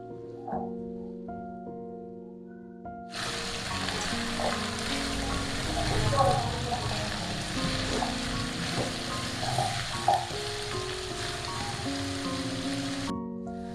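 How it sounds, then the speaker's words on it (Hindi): Vegetables with beans and green chillies sautéing in spices for an aloo curry, heard as a steady, close sizzle with faint stirring, running alone under quiet background music after a short silent start. "मिक्स करेंगे और सब्जी को भूनेंगे मसाले के साथ"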